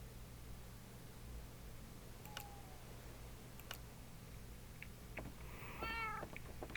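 A cat in the Minecraft Dawncraft video game gives one faint, short meow near the end over a steady low hum, with a few soft ticks scattered earlier.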